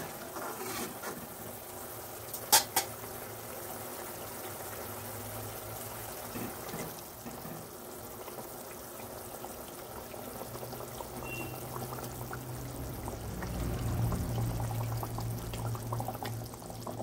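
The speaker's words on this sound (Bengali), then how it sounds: "ঝোলটা ফুটে উঠেছে, আমি এবার মাছগুলো আস্তে আস্তে দিয়ে দেব।" Tilapia fish curry gravy boils steadily in a pan with a low, continuous bubbling, and a couple of close clunks early on as the fish pieces go in.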